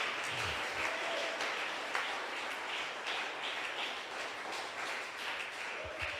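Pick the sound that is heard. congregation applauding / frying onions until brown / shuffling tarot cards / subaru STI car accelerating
congregation applauding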